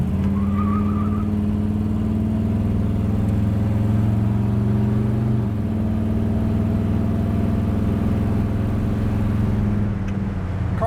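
A 1968 Chevrolet Camaro with a 454 big-block V8 pulls away under throttle, a loud, steady low engine rumble from inside the car, smoothing out as it shifts and cruises.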